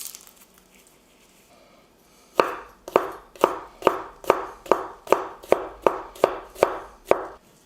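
Vegetables chopped by knife on a board for a red-wine beef braise: after a quiet start, about a dozen crisp, evenly spaced chops ring out close and loud in a steady rhythm, with no talking.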